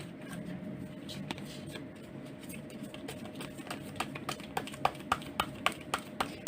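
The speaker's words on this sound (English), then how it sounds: "So let's shuffle 3 more cards for more details." Tarot cards being shuffled by hand, with soft papery rustling that turns into a run of crisp, evenly spaced taps and clicks toward the end, heard close with no talking.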